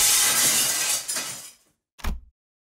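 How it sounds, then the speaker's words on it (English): A chandelier crashes to the floor in the game Limbus Company: a loud burst of shattering glass and tinkling shards that fades out, followed after a brief silence by a separate short, heavy thud. "The chandelier crashed to the floor in full force, making a tremendous noise."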